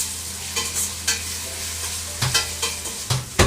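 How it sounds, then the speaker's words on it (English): Ginger garlic paste sizzling in a pot for chicken biryani masala, a soft continuous fry under a low hum with several sharp scraping stir strokes at irregular intervals. "I've just added the ginger garlic paste and it's getting mixed here."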